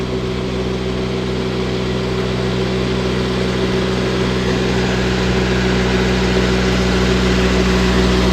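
A tractor engine runs at night with a loud, constant low drone and steady mechanical hum, unbroken and close throughout.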